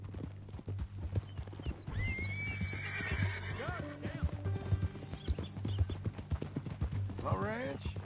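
Rhythmic hoof clip-clops alongside a horse's loud neighs and whinnies in the video game Red Dead Redemption 2, with people talking over them.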